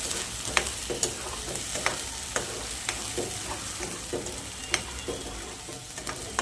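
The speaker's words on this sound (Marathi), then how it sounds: "त्याला आपण चांगलं परतून घेऊया।" Eggs with masala stir-fried in a pan sizzle steadily up close, broken by regular scraping and clacking strokes of a spatula, with no talk.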